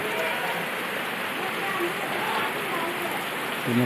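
Steady, dense rain patter fills the whole stretch, a constant broadband hiss with faint voices underneath.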